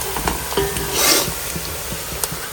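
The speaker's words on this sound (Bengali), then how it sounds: "এখানে হচ্ছে সরিষার তেলে পেঁয়াজ ভাজা" Onions frying in mustard oil give a close, steady sizzle with the clink and scrape of a spoon stirring the pan, one brief louder hiss in the middle.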